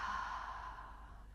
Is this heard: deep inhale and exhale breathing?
yes